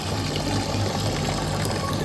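Water flows continuously at a decorated village wedding entrance featuring a Ganesh idol, an even rushing trickle under a steady outdoor background, with no clear variation over the short span.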